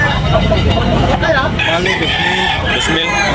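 Rooster crowing close by at a lively backyard market, a loud strained call over a busy background of other noise.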